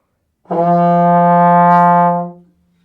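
A trombone holds one steady sustained note blown with cold air, giving a thin, compressed tone that lasts about two seconds, played solo and close with a clean start and gentle fade.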